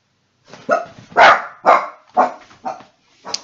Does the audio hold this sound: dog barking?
yes